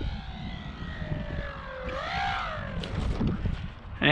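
FMS Pitts 1400mm RC biplane on low throttle, a steady propeller whine gliding down then swooping up in pitch as it banks around, moderately loud outdoors with wind and ground noise beneath.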